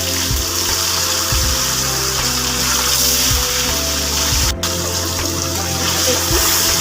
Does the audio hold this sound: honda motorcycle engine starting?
no